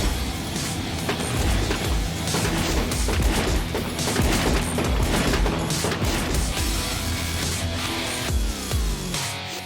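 Gunfire from a roadside shooting at a police trooper during an arrest after a chase, sounding as dense, loud, continuous cracks and bangs with no clear gaps, crowding the whole stretch.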